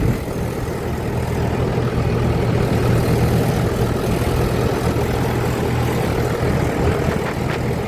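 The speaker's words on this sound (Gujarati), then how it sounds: "આપણે ભાઈ ટ્રેક્ટર ભરી નીકળી ગયા છે" A loaded tractor pulling away along a road near Dwarka as light rain begins, its engine giving a steady, close, low droning chug with no break from start to finish.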